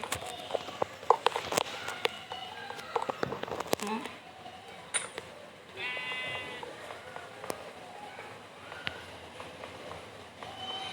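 Sheep bleat several times in Minecraft amid clattering footsteps and scattered clicks, close and busy, with occasional game sound effects between the calls.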